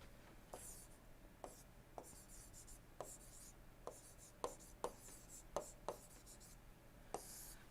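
Chalk or a marker writes on a board during an engineering lecture about carburettors, producing a quiet series of about a dozen sharp taps and short scratchy strokes at an uneven pace.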